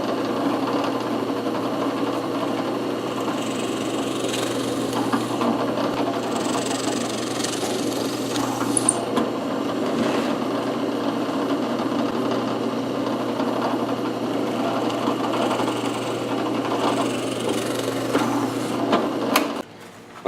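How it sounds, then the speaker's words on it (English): A drill press with a 3/16 bit bores a series of holes for dowels in a wood paper-holder desk organizer, its steady mid-pitched motor hum and whir running close and continuous throughout, with no talking. "over at the drill press I got a 3/16 bit in here"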